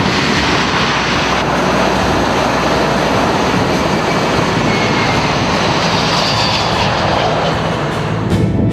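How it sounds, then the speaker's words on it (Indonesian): A four-engine Boeing C-17 Globemaster III military transport jet flies past with a loud, steady, broadband roar that fills the whole stretch without pause. "Boeing C-17 Globemaster III adalah pesawat angkut militer strategis dan taktis canggih buatan McDonnell"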